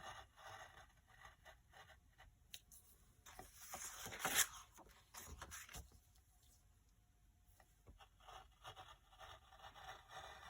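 An X-Acto knife scrapes a slit through paper in a brief rough burst, close and quiet, with faint scratchy handling sounds before and after.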